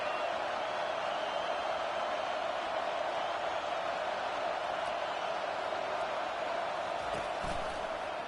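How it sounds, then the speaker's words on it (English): A dense, steady roar of a large stadium crowd fills the clip at an even level, distant and continuous. "This crowd bringing the energy and noise early."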